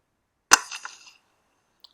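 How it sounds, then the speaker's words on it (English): A single sharp 17HMR rifle shot from a Lithgow Arms 101, fired at a rabbit outdoors, cracks loudly and decays over about half a second, followed by a faint distant tick. "Get ready for the shot."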